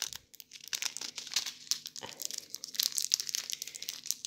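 A stapled plastic sachet being opened by hand, with close, crisp crinkling and tearing of the plastic in irregular bursts, quiet and without talk.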